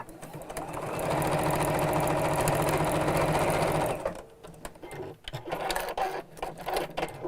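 A sewing machine stitches a woven quilt block in a loud, steady run of close-up whirring for about three seconds, then stops and leaves quieter handling noises.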